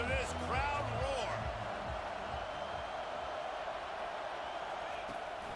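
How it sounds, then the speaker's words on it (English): Stadium crowd in an American football video game roars as a steady, loud wash of noise, with announcer-like voices and other tonal sounds layered over it early on. "listen to this crowd roar"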